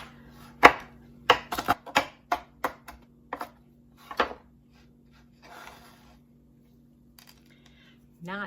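A knife chops garlic into chunky pieces on a board, a run of crisp, close, uneven taps in quick bursts with pauses, plus a faint low hum underneath.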